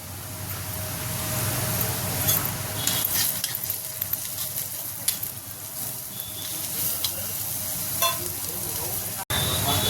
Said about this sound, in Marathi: कांदा आपला आणि मिरची जरा बऱ्यापैकी भाजून झालेली आहे